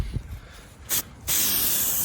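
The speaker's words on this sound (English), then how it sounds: "Don't try to spray it all on at once." A Plasti Dip aerosol can sprays coating onto metal, a brief hiss burst followed by a steady, loud continuous spray hiss up close.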